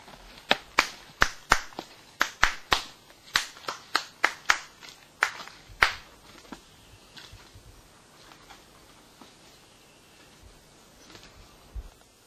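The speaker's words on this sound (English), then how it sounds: "we can also clap our hands a little bit so we can attract them to us" A person claps their hands outdoors to attract black robins, a run of sharp, close claps in quick irregular bursts for several seconds, then fading to a few scattered softer claps.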